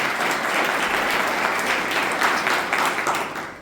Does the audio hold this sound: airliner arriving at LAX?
no